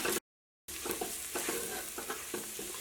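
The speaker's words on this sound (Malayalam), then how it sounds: "അപ്പോൾ ഇനി മല്ലിപ്പൊടിയും ഇതിനകത്ത് കിടന്നിട്ട് നന്നായിട്ട് മുരിയട്ടെ." Coriander powder frying in a pan for vegetable biryani, a soft steady sizzle broken by repeated scraping strokes of a spoon stirring it, close and fairly quiet, with a brief gap of silence near the start and no talking.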